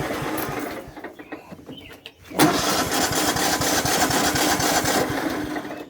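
A tractor engine cranks after the key is turned, then catches and settles into a steady, loud, rhythmic running chug close by.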